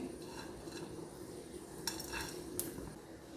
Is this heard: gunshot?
no